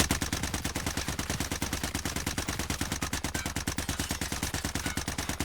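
Assault rifle in the Warzone video game firing full-auto at a wall about 18 meters away, a rapid, evenly spaced stream of sharp shots sustained for several seconds without pause, loud and close, with no talk.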